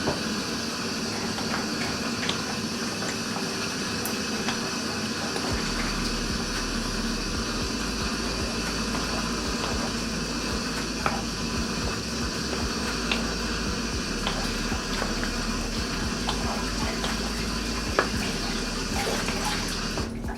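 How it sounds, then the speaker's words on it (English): Pasta water pours and splashes steadily into a mac and cheese sauce, a continuous close watery rush with no talking. "So just keep adding your pasta water little by little."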